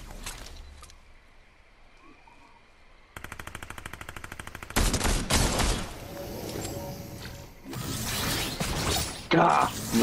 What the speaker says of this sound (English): Hold on, they're shooting at you.